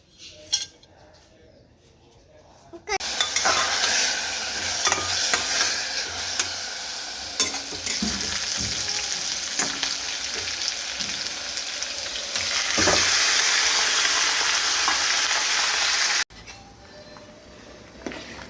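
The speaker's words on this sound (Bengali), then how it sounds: "এখানে আমাদের সকলের জন্য ভাত হচ্ছে" Rice cooking in a pot for a home lunch, with steady bubbling and stirring noise, clinks of cutlery against the pot and a sizzling hiss, close and continuous for most of the stretch before cutting off abruptly.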